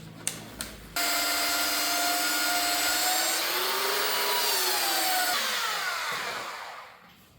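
Angle grinder working on a steel front Dana 60 axle housing during a shave job, a steady loud whine starting after a few light knocks, pitch sagging and shifting as the disc bites, then winding down.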